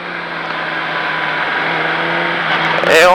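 A motorcycle accelerates on the Bresse race circuit, its engine note rising steadily and growing louder, with a sharp surge of revs at the very end.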